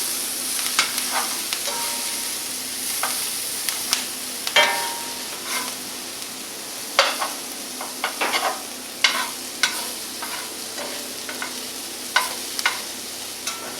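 Pasta ingredients being stirred and tossed together in a bowl for a cheesy garlic bread and pasta dish, giving repeated light clinks and scrapes at an irregular rhythm over a steady background hiss, with no talking.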